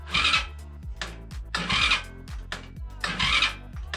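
Starter motor on a Chinese Typhon 110 children's quad cranking in three separate bursts, each a loud straining whir that cuts off, with short pauses between attempts.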